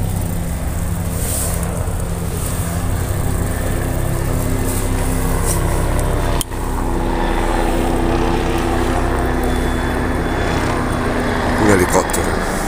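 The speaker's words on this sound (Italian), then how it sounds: "Un elicottero, che è successo?" A helicopter passes overhead above a seaside street in Corralejo, Fuerteventura, a loud, constant droning rumble that fills the whole stretch, with a brief dip midway and faint voices nearby.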